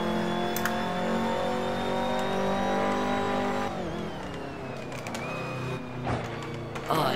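A turbocharged race car engine in the racing game Assetto Corsa revs high in a steady harmonic whine, then drops off sharply with turbo flutter and shifts before rising again, loud and up close.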